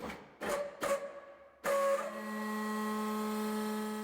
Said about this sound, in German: Die hydraulische Rahmenpresse lohnt sich für die Tischlerei.